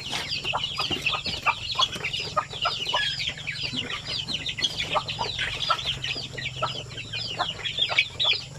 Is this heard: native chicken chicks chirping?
yes